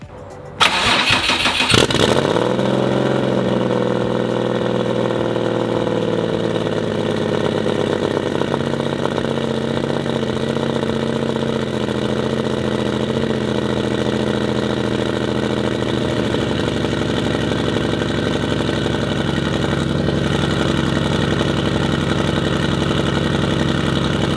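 A Subaru WRX engine cranks briefly on a cold start and catches, roaring up loudly before settling into a steady, rumbling idle that runs on for about twenty seconds.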